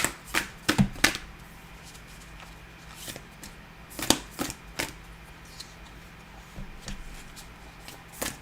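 An oracle card deck is shuffled by hand during a live tarot-style reading, giving faint, irregular papery riffles and taps in small bursts with quiet gaps between them.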